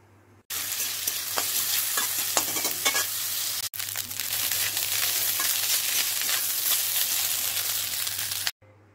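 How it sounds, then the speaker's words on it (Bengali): Leftover rice fries with potato, onion and green chili in a hot pan, a loud steady sizzle with brisk scraping stir strokes, broken briefly once partway through before cutting off near the end. "এটা দিয়ে আমি এখন ভাতটা ভেজে নেব"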